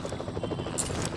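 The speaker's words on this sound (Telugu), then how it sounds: "హెలికాప్టర్ మనోళ్ళు" A helicopter in a video game thumps with steady, rapid rotor pulses at moderate loudness, its blade beat carrying evenly throughout with no talk over it.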